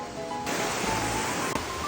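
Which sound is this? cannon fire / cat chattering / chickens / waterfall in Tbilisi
waterfall in Tbilisi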